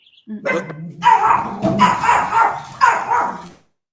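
A puppy barks and yips in several loud, close bursts, with whimpery tones between the barks.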